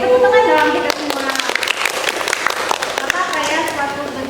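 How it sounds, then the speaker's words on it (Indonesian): A group in a sociodrama guidance session claps together, a dense burst of hand claps of uneven rhythm under and between voices, tapering then picking up again. "Tepuk tangan dong kita semua."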